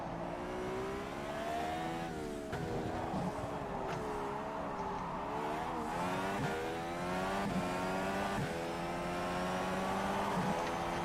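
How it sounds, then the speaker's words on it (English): Turbocharged Indy car in rFactor 2 racing at Indianapolis, its engine droning steadily with repeated rises and dips in pitch as the turbo spools, loud and continuous with no talk. "See, that is the turbo."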